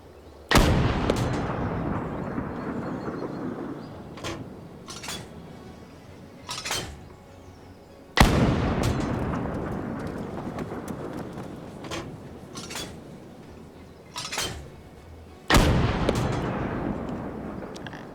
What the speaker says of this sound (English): Shells are gonna start landing.